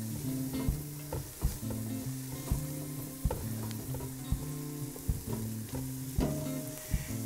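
Thyme, parsley and garlic stirred in a sizzling frying pan, a constant loud fry with regular knocking scrapes of the spoon against the pan and a low steady hum beneath.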